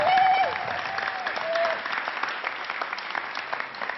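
A studio audience claps for comedian Jamel Debbouze, loud dense applause that swells briefly at the start and then holds steady with a few whistles over it.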